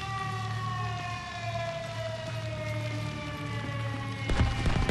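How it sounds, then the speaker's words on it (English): An air raid siren wails steadily in the video game The Division 2, a sustained droning tone slowly falling in pitch, heard at a distance over low rumble, with a sharp burst of noise near the end. "And we've got an air raid siren."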